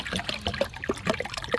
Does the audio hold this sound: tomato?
no